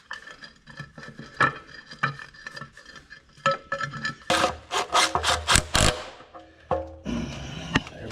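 An oil pan going back onto a Farmall Super A tractor with no gasket fitted: metallic scraping, rubbing and clanks, then a run of sharp rhythmic knocks near the end, all close-up with no talking.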